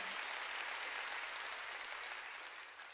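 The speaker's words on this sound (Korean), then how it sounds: "박수로 하나님께 영광을 드려야 돼" A church congregation applauds during a Korean sermon, a dense, sustained wash of clapping hands at moderate distance that fades slightly at the end.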